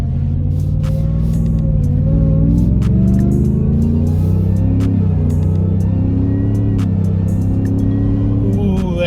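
A supercharged 2023 Ford Shelby F-150 Super Snake truck accelerates hard, its engine note rising in close, loud sweeps, with a gear change midway and another climb toward the end.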